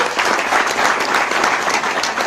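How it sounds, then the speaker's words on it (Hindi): A gathering at the Rauzagaon sugar mill in Ayodhya breaks into loud, dense applause: a steady, sustained wash of many hands clapping at once, close and full, with no break. "जोरदार तालियां चाहेंगे सर के लिए"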